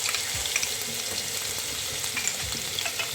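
Ginger garlic paste sizzles in hot oil for a dal, a steady loud crackling fry with faint scraping and stirring clatter mixed in, close and continuous with no talk.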